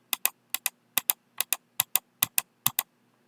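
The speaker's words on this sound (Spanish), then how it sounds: "Y el clic del mouse también suena muchísimo" A computer mouse clicks sharply and close in quick pairs, about a dozen crisp clicks at an even pace against a quiet background.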